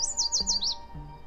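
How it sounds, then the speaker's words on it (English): A yellow warbler sings in a riverside bosque woodland: a quick run of five high, sweet, slurred notes in about a second, clear and fairly close over a quiet background. "So the yellow warbler, which also lives in our bosque habitats, it'll say"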